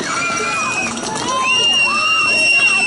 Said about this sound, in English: So that's a big hand for all the sponsors.